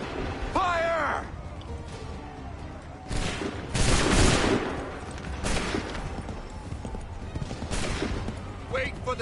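Period musket volley fires on command, several loud cracking bursts spread over the span with ragged echoing tails, a shout at the start and voices in between.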